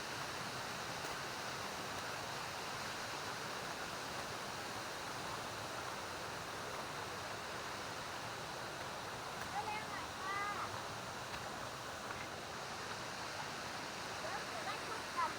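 Continuous rushing water at the lower tier of Huai Kaeo waterfall, a dense, steady roar that fills the whole stretch evenly, with a few faint voices under it.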